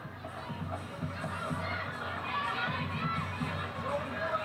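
Stanford bench players cheering on teammates at a women's soccer match, moderately loud crowd noise of shouts and chatter swelling and dipping over a few seconds.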